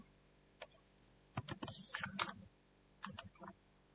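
Quiet, close keystrokes on a computer keyboard as a password is typed, a single tap followed by quick irregular bursts of clicking with short pauses between, no talking.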